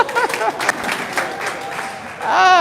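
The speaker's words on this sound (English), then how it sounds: "clap for me" Clapping from a live audience at a traditional-wellness talk, a broad steady patter of many hands lasting a couple of seconds with a voice speaking over it and a brief tonal burst at the end.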